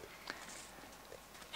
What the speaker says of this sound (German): Dann haben wir hier, ach, eine Ziege.